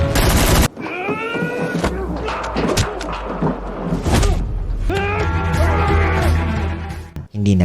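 Gunfire from a sniper battle in a movie action scene, sharp broadband shots cracking out amid a dense mix of music and other effects, with people talking throughout.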